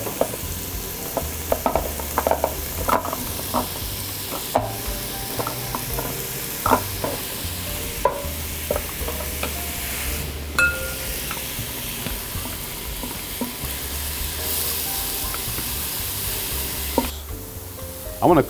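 Chunks of food sizzling and being stirred in a hot pan while preparing beef wellington: a steady bright frying hiss throughout, with frequent scraping and clicking of the utensil against the pan, close and continuous.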